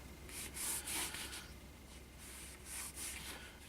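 A hand rubbing down the edge of a rolled leather dog collar, soft, close, rhythmic friction strokes, a few swishes in a row and then a pause, faint and quiet with no speech.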